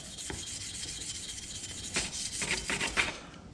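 A soft bristle brush scrubs rust off bare metal after a rust bath, a steady close rasping rub that breaks into quicker back-and-forth strokes before stopping.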